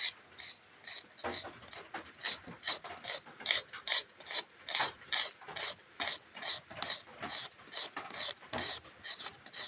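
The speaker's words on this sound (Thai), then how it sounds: "วิธีทำคือเราต้องขูด ขูดต้นสนนะครับ" Pine wood scraped by hand into small shavings, a rhythmic series of close, raspy scraping strokes repeating roughly every half second.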